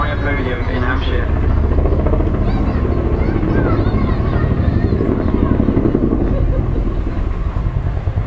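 Chinook twin-rotor helicopter flying at the Wales National Air Show, a loud continuous thudding rotor beat with heavy engine roar, while a commentator talks over it.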